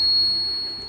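A buzzer wired to a PIR motion sensor in a student project sounds a steady, fairly loud high-pitched electronic tone that holds through the whole second.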